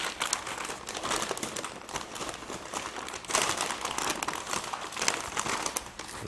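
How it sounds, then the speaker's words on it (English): Butcher paper crinkles and rustles up close as it is folded under the bottom of a smoked brisket, a dense run of crisp crackles with no talking. "Just going to fold this here on the bottom."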